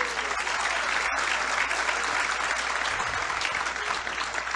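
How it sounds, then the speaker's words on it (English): Audience applause at a spiritual talk in a California retreat center, a dense steady wash of clapping that holds loud and unbroken for the whole stretch, with no voices over it. "you have to applaud for him"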